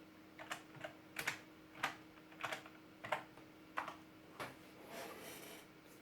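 Keys tapped on a ZX Spectrum home computer keyboard, a scatter of separate soft clicks in an irregular rhythm, close and quiet in a still room.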